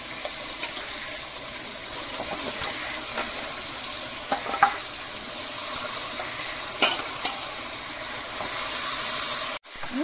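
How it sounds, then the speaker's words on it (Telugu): Washed mutton frying in oil with chilli powder, giving a loud, continuous close sizzle and hiss broken by occasional stirring clatters, with a sudden brief cut near the end. "కడిగి పెట్టుకున్న మటను వేసుకొని మంచిగా ఫ్రై చేసుకోవాలి"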